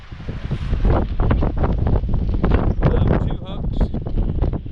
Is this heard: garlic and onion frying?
no